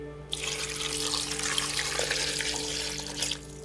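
Water gushes steadily into a container in a video game, a continuous bright splashing rush that starts abruptly and cuts off cleanly after a few seconds over a low electronic hum.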